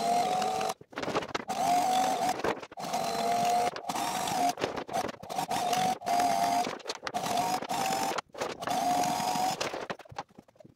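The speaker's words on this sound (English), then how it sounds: "Sewing my first seam." A Sailrite sewing machine stitches a sail seam in repeated rapid whirring runs, each a second or two long, separated by brief pauses, close and fairly loud.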